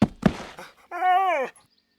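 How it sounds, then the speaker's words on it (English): Creature yelping effect: two sharp thuds, then a loud, wavering, whimpering yelp like a hurt dog, close and alone, fading out quickly. "The creature toppled backwards and began yelping."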